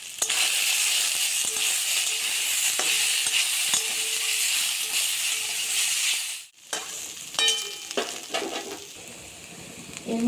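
Turmeric and salt frying in an oiled pan, a loud, continuous sizzling hiss with light stirring taps. It cuts out briefly, then returns with busier scraping and clattering against the pan, and no one speaks.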